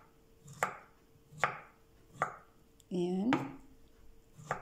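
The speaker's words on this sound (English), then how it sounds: "Now we will cut our beetroot." A knife slices through boiled beetroot on a cutting board, four crisp, evenly spaced chops close up, while a short spoken word cuts in between them.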